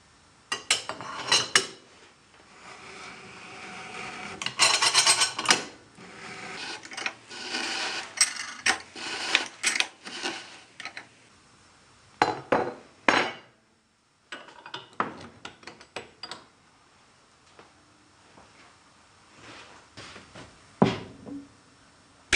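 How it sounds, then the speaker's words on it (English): Metallic clicks, clanks and ratcheting from a turning tool rotating the cylinder of an Alfa Laval single seat valve reverse actuator, in irregular close bursts separated by quiet gaps. "Mount the lock wire and rotate the cylinder using the turning tool to firmly close the actuator."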